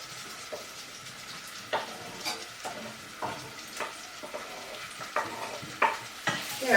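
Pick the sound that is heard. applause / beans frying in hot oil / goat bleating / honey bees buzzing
beans frying in hot oil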